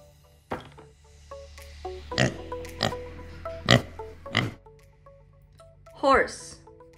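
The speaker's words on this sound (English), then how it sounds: "Pig." A pig oinks in a series of short, punchy grunts spaced about half a second to a second apart, followed by a brief higher squeal near the end.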